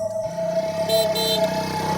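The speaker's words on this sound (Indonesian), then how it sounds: "ku dengar klakson motor," A motorcycle horn sounds a sustained, steady honk lasting just under two seconds. It is fairly close and loud over a faint engine-like background, with no speech.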